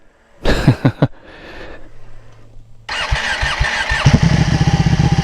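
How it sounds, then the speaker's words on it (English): A 2012 Ducati Panigale 1199S with a clear clutch cover gives a few clicks, then a brief starter whine. The engine catches with a sharp bark and settles into a loud, rapid, lumpy idle close by. "Gotta show you the startup with the clear clutch cover"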